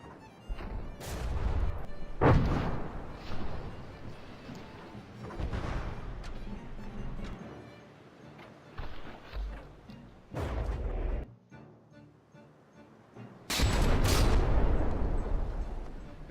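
Ship artillery firing in the naval combat game From The Depths during a frigate tournament battle, with heavy booming salvos in bursts that fade into quieter stretches before a loud final barrage.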